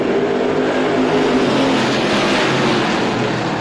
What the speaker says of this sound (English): Woody's Auto Strictly stocks back underway.